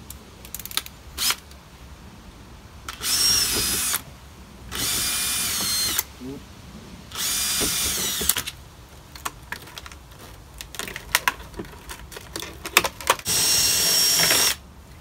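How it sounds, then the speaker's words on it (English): Power drill boring into concrete during a kitchen extractor booster installation, with four or five loud, harsh drilling bursts, each a few seconds long, separated by clicks, handling noise and brief quiet gaps. "Change the drill bit, this one's rubbish"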